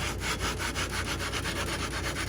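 Rifle scope rings are lapped with a lapping tool, a steady close-up rhythmic rubbing and grinding with regular back-and-forth strokes, continuous and fairly loud, with no talk.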